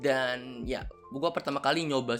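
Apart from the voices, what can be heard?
No distinct noise like a dog, phone or traffic.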